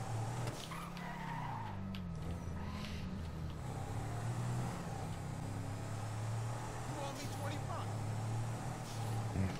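Car driving in the video game GTA V Online, a faint engine drone with tyre skids, heard beneath ongoing conversation.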